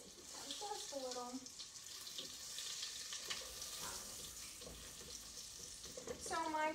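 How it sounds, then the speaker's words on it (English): Butter melts and sizzles in a hot pan, a steady close hiss running throughout with brief bits of speech over it. "So my butter is melting"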